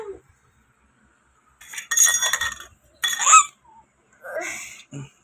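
Dishes clink in a few short, bright bursts as rice and fish are served at home, separated by silence, with a brief faint voice.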